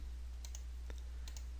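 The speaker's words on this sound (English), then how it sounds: "right clicking into this folder and going to Properties" Faint computer mouse clicks during work in CAD software, a few soft, sharp ticks over a low steady hum, with no one talking.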